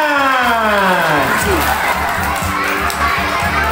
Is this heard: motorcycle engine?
no